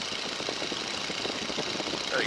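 Stearman biplane radial engine throttled back to about 1,750 RPM in flight, a steady, moderately loud droning rumble with a faint knocking pulse throughout, plus wind roar.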